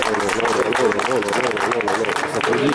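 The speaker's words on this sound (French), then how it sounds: "Ça s'applaudit." Spectators at a Paris pétanque tournament applaud a well-played shot, with steady clapping continuing under a commentator's voice.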